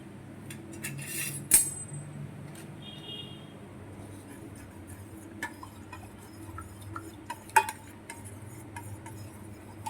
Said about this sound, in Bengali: সেই দুধটা আমি এবার এর মধ্যে মিশিয়ে দেবো এবং ভালোভাবে এটাকে নাড়বো